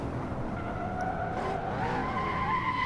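A race car, an old Lamborghini Countach with weak brakes in a racing video game, skids under late braking, giving a continuous loud tire squeal over engine noise for about three seconds.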